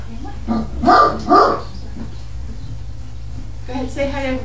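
Puppy barking and yipping in a home while straining to reach another dog, a few sharp close barks in quick succession followed by a softer whining bark.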